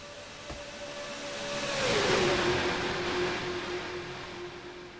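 Race cars in a NASCAR-style video game race roar past in a close pass, engine tone sweeping down as the cars go by, loud and steady with no talking.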